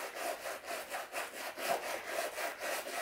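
A sneaker being scrubbed with cleaner to lift a scuff, heard as steady back-and-forth brushing strokes in a regular rhythm, close and fairly loud, with no talk.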